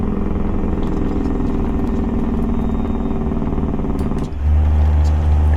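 Steady loud drone of a truck engine with a swapped-in engine in American Truck Simulator, a throbbing low rumble that drops briefly near the end, then returns deeper and heavier, alone without talk.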